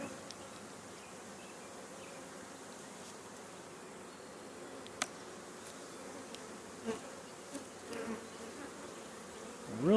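Steady, dense buzzing of many honeybees inside a hive box fills the whole stretch, with a few faint knocks and rustles near the end.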